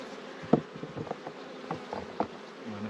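Honey bees buzz around a beehive frame being handled, a close, steady insect drone with light bumps and taps of the frame.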